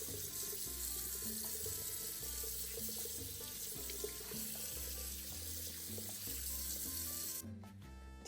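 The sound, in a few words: rinsing pork meat under running tap water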